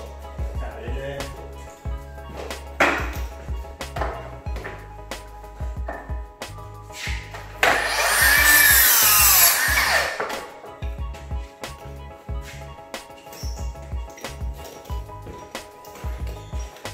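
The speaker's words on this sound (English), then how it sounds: "So we'll just cut something small, tap it in there." A small timber block being sawn by hand during drywall repair after flooding, a short stretch of rhythmic rasping strokes in the middle, close, among scattered knocks and handling noises.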